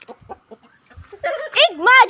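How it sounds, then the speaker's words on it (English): Chicken clucking from the Angry Birds game, a few soft low taps followed by rising squawky clucks that build loud and close over a second or so. "Chicken."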